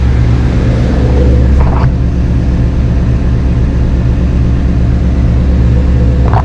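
A car fitted with a GT350 intake manifold, 47 lb injectors and a Bama tune idles in a steady, loud, close rumble, holding one even tone with a brief louder blip partway through.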